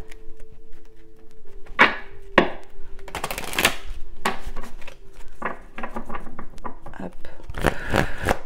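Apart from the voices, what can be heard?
shuffling cards for an oracle card reading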